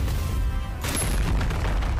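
A sharp, booming gunshot effect from the anime Reincarnated as a Slime hits once just before the one-second mark, with no one speaking during it, and is followed by a rumbling tail that holds steady and loud.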